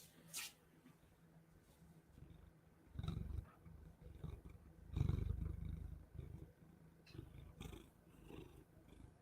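A large pet cat purring close by, a low rumbling texture that swells in louder bursts, with faint indoor background noise and no talking over it.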